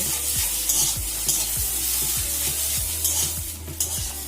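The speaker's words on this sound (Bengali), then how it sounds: "জিরে গুঁড়োটাকে নাড়াচাড়া করে মিশিয়ে নিচ্ছি" Ground cumin is stirred into frying food in a pan, with a steady sizzle and repeated scraping stirs at a regular rhythm, close and moderately loud, with no talking.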